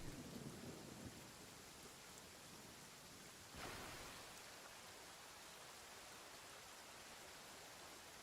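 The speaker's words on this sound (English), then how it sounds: "The sound of the rain is actually just really relaxing" Steady rain pours with a rumble of thunder in Genshin Impact, a soft constant hiss plus a low roll near the start and a sharper crack midway, faint overall.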